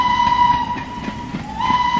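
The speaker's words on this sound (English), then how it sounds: "Drop in a choo-choo train sound" A train sound effect dropped in as an edit, with a sustained horn-like whistle tone over a steady rumble and faint rhythmic clatter, fairly loud and continuous for about two seconds with no voices.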